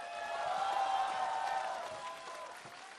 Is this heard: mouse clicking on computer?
no